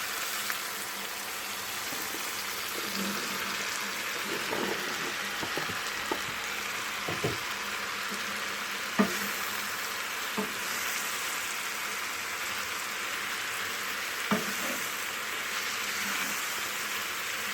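Ridge gourd sizzling as it is stirred into frying masala in a pan for a Punjabi-style dish, a steady crackling hiss with occasional soft scraping stir strokes throughout, no talking.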